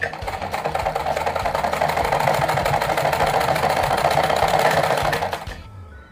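A sewing machine stitches lehenga fabric for a Durga idol's outfit, running in a fast, steady mechanical whir close by for about five seconds before slowing and stopping.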